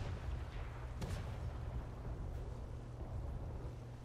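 A ship's cannon fires in the naval video game Atlas, one sharp boom over a steady low rumble of wind and water.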